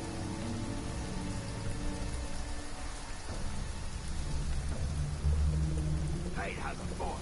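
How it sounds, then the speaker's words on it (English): Steady rain hisses through the game world of Shadow of Mordor, a dense wash of falling drops with low rumbling beneath and a brief voice near the end. "Rain's good for us."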